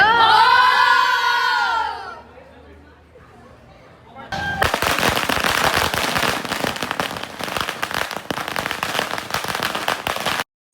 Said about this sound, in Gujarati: એ બધા ફટાકડા ફોડવા જાય છે